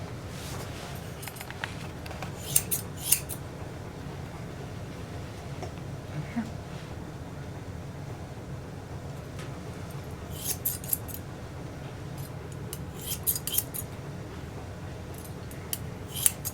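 Steel grooming scissors snip a dog's coat while the head is shaped, giving scattered light crisp clicks in small bursts over a steady low room hum, close and quiet.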